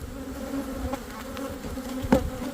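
Honey bees buzz steadily during a beehive inspection, a continuous droning hum close by, with a few louder passes as individual bees fly near, and one sharp handling knock or bump near the end; no speech.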